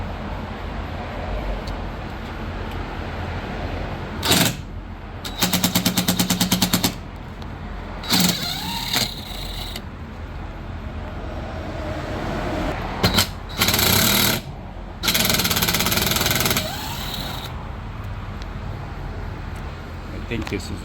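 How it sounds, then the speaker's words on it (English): A power driver backs Torx screws out of a 2021 Slingshot dashboard in several short, loud whirring bursts of one to two seconds, separated by quieter pauses with low background noise. "Now we're gonna take the screws out."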